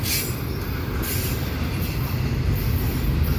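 A CPKC freight train with CP and KCS locomotives rolls out of Dorval, its wheels squealing and cars rumbling steadily close by, alone without any voices.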